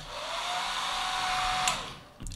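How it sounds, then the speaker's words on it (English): A hair dryer runs with a steady, close whooshing roar and a faint whine, then cuts off near the end. "why I have a hairdryer"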